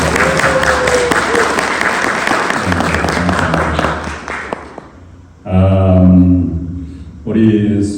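Warm applause from a church congregation greeting a visitor at an Easter service, dense clapping for several seconds that fades out before speech resumes.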